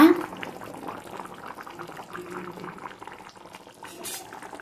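Chicken curry simmering in a pot, a steady close bubbling and soft liquid burble, with a voice talking over it.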